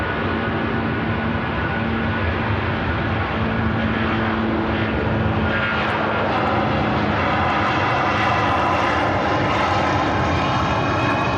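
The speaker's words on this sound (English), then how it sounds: "here it is. Air Tanker Airbus A330." An Air Tanker Airbus A330 jet rolls for takeoff at Manchester Airport, a loud, steady engine roar that builds and spreads over the whole stretch with no talk over it.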